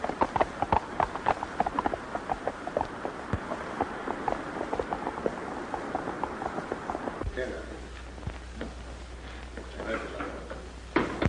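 Horse hooves clip-clop in a rapid, steady rhythm through a 1943 western scene, close and continuous under voices talking, then continue more sparsely under a low hum.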